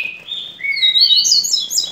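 Blue-billed seedeaters, a mating pair in a breeding cage, give a bright, close run of rising whistles and rapid twittering chirps, loud and clear with no voices.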